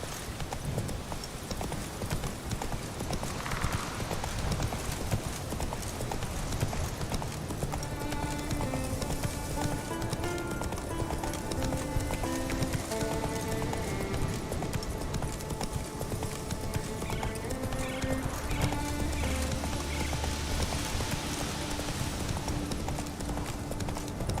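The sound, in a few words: horse galloping, from video game The Witcher 3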